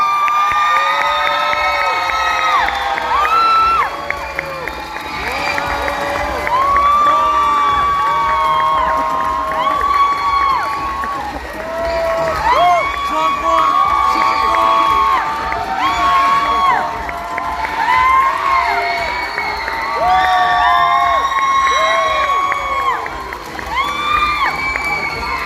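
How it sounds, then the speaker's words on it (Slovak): Large crowd at a Comic Salon 2025 cosplay catwalk cheering loudly and shouting for cosplayers on stage, with whoops, children's yells and some applause, a dense, sustained roar filling the whole stretch. "nech im dáte jeden obrovitánsky potlesk"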